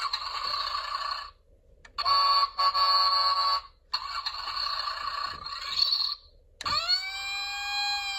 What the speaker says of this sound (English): And that is the sound of the fire alarm.